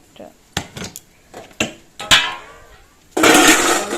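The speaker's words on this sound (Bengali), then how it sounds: "আর কয়েকটা বাসন হচ্ছে, এগুলো মেজে নেবো" Dishes and pots are handled while being scrubbed, with separate clinks and knocks of metal utensils, then a louder rush near the end, likely running water or hard scrubbing.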